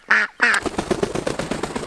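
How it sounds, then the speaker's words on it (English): A mother duck gives two loud, close quacks, followed by a quick run of softer, rapid clucking chatter. "This duck figured out how to get out of here."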